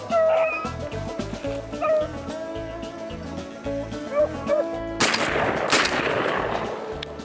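A hunting dog barks and yips repeatedly in a rhythmic, excited chorus during a rabbit hunt outdoors, close and loud, ending in a sharp burst of noise like a shotgun blast.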